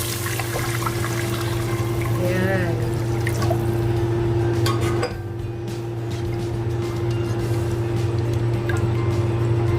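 Water is poured into a pot of chicken oatmeal soup in a home kitchen, a continuous splashing trickle with faint clinks over a steady background hum, while a person talks briefly.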